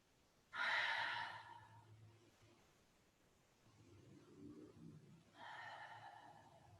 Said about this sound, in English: in through the nose, gentle and slow, and out through the mouth, nice and easy, audible as well